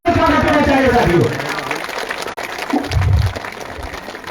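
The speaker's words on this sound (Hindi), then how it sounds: "ताली नहीं रुकना चाहिए जब तक साहब बोलना चालू न करे।" Audience at a party workers' meeting in Maharajganj claps loudly and steadily, a dense, close burst that fades after a second or so before a short louder swell of crowd noise.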